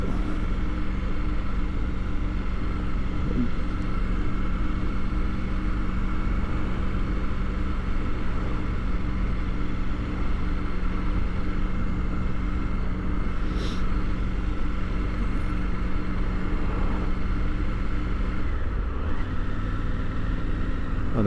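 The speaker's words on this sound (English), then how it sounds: "I don't know how much you can hear of the engine and how much you hear of the wind" A new motorcycle ridden on an open road, its steady engine drone mixed with constant loud wind buffeting, continuous throughout with a brief shift in tone near the end.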